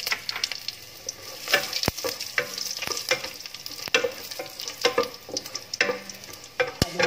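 Dried red chillies and whole spices sautéing in hot oil for pepper chicken, a steady crackling sizzle with repeated stirring scrapes and sharp clicks of a utensil against the pan, close and fairly loud throughout.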